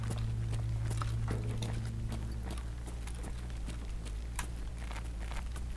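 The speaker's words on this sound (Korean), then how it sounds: "발소리가 몇 거리 있는 거 같지?" Rapid footfalls from a character moving in the Escape From Tarkov video game, sharp and close, with a steady rhythm over low droning ambience and no speech.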